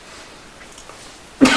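A single short, sharp sneeze bursts out near the end after a quiet stretch, close and fairly loud.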